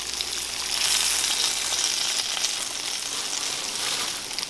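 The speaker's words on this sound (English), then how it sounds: "Grease ain't cooking fast now." Pieces of rabbit fry in hot grease with a dense, steady hiss and crackle, close and even throughout, no voices over it.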